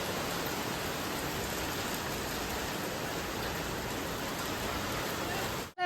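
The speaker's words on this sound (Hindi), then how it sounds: "बहुत ही तेज मस्त बारिश होने लग गई एकदम से।" Heavy rain pours down in a sudden burst, a loud, steady, dense hiss of drops hitting surfaces that continues unbroken until a brief drop at the very end.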